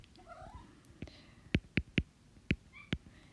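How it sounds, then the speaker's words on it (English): A cat meowing close by: a run of short, distinct meows, some in quick succession, over a quiet room with no talking. "you might hear my cat next to me"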